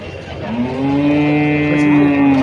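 A single cow moos loudly and close by at a weekly cattle market in Nashik, one long low drawn-out call against a faint busy background.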